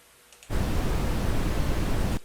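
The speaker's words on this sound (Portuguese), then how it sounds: "tem o ruído rosa, que é nada mais nada menos do que a mistura do ruído branco com o ruído browniano" Steady pink noise from a test signal generator in a music production tutorial switches on abruptly, holds as a loud, even broadband hiss for nearly two seconds, then cuts off.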